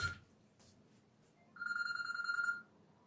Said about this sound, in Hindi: ये फोन डिस्टर्ब कर गया बीच में।